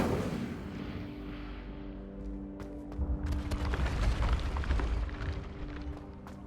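A fire spell cast in Hogwarts Legacy bursts with a roaring, crackling whoosh over low rumbling game ambience, swelling midway with sharp flickering bursts before settling back.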